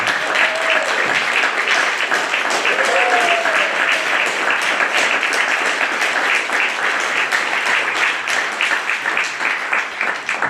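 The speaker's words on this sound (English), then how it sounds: "Applause" Audience applause at a Fringe 2025 performance, sustained dense clapping from a sizable crowd that stays loud throughout, with brief voices and whoops mixed in.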